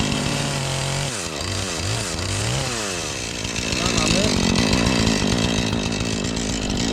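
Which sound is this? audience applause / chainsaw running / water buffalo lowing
chainsaw running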